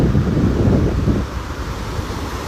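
Sea waves rolling onto a beach with wind gusting across the microphone, a loud, continuous rushing surge that eases slightly partway through, no voices.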